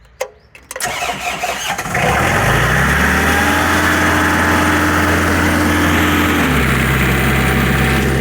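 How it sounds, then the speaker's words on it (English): A compressor for dry ice blasting cranks and starts after a few clicks, then settles into a loud, steady engine-like drone close by, with the pitch dropping slightly as it continues running. "We turn the thing on and launch the compressor."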